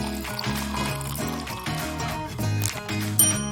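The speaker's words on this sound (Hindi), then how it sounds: "अब इसमें बहुत सारा ठंडा पानी डालें।" Lots of cold water poured into an extra large bowl, a steady splashing, trickling stream up close that lasts throughout, with soft background music.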